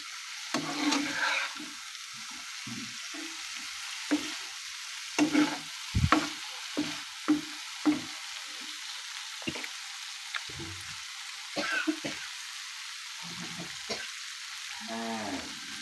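A spatula stirs and scrapes green banana kofta masala in a hot pan, with repeated close metallic clanks and scrapes over a low, steady sizzle.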